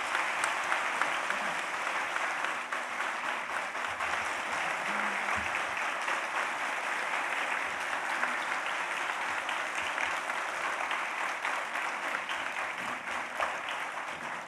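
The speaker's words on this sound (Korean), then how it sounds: "기수단이 퇴장할 때 많은 박수와 격려 부탁드립니다." A church congregation applauds at a Sunday evening service as the flag bearers leave, a dense, even wash of clapping that holds steady throughout, with no voices over it.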